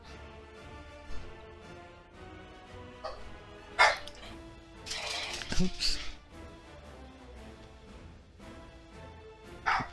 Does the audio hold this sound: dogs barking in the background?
yes